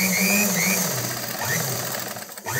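A sewing machine stitching a tuck on a blouse runs in a steady, close mechanical whir with a rapid needle pulse, winding down near the end.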